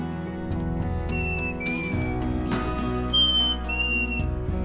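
A person whistles a sweet two-note descending call twice, clear and close, imitating a chickadee song over a soft musical backdrop.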